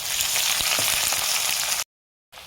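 Chopped garlic frying in hot oil gives a close, loud, even sizzle with a few light stirring taps, then cuts to brief silence before sizzling resumes, with no talking.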